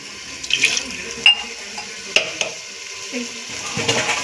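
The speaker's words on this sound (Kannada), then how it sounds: "ಆಮೇಲೆ ಸ್ವಲ್ಪ ನೀರು ಹಾಕ್ಬಿಟ್ಟು" Water poured into ground masala frying in a pan for chicken masala, a splashing pour over sizzling with a few clinks and scrapes, close by, no talk.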